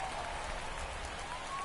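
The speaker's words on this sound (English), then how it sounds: "the rain's still a factor here" Steady hiss of rain falling over a baseball stadium in MLB The Show 24, a broad wash of drizzle with faint crowd murmur and no distinct voices.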